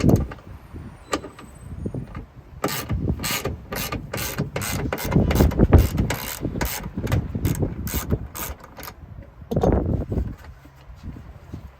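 A hand ratchet loosening a bolt while a Retrax Pro XR bed cover is fitted to a 2022 Ford F-350 Tremor truck, with a run of quick metallic clicks in bursts up close and some handling noise around them.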